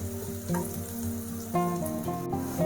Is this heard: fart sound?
no